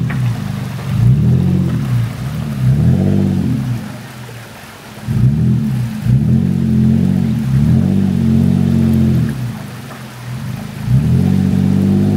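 A Jeep Wrangler Rubicon engine on an off-road trail rises and falls in repeated revving surges, loud and close, with short lulls between pushes.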